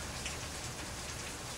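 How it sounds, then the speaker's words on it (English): Steady rain hissing down on a surface, a dense continuous patter with no pauses and no voices. "Oh my gosh, it's raining."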